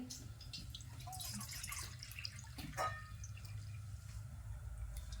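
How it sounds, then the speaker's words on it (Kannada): Water trickles and drips into a pot on a gas stove as it is filled for making ragi mudde, a steady close splashing that runs unbroken under low room noise for about five seconds. "ಅದನ್ನ ಈಗ ನೀರು ಹಾಕೋತೀನಿ ನೋಡ್ರಿ"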